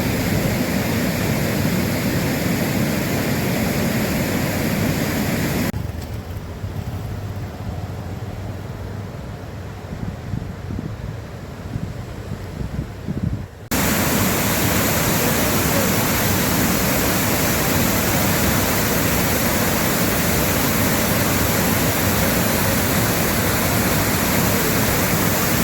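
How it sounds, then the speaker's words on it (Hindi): Twelve water streams pour into the Kilkila river pool, a loud continuous rushing roar that drops to a quieter, softer flow for several seconds before the full roar returns. "किलकिला नदी के पास ये 12 जल की धारा रहती है।"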